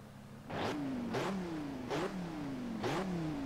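Ford Focus RS with 340 hp front-wheel drive revving in Forza Horizon 4, four sharp rising throttle blips in steady rhythm over a continuous engine drone, close and loud with no talk.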